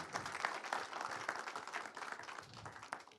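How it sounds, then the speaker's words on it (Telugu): An audience at a movie teaser launch event breaks into steady applause, a dense wash of clapping that carries evenly for a few seconds before beginning to fade. "గట్టిగా ఒకసారి క్లాప్స్ అండి."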